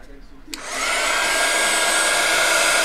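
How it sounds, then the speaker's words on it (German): A hair dryer melts Stampendious embossing powder: a click, then a loud, steady blowing whir that starts abruptly and runs unbroken to the end. "Nehme ich meinen Föhn her,"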